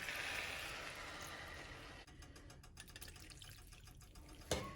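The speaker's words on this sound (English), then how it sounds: "Next, we're going to add 2 cups of water." Water pours steadily into a rice pot for a couple of seconds, then the gurgle settles, ending with a short clunk.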